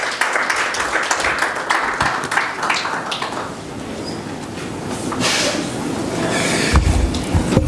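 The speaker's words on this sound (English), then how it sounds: "give him a round of applause?" Audience applause in a conference hall for the chair of a keynote session at the 3rd AU event: steady, dense clapping that carries through the whole stretch with no talking over it.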